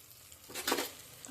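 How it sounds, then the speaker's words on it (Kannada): Spice powder and chutney being stirred into a pan for mutton keema, heard as a brief swell of sizzling and scraping that fades after about a second, close but fairly quiet, with no talk. "ಈಗ ಪೂರ್ತಿ ಮಿಕ್ಸ್ ಮಾಡ್ಕೊತೀನಿ."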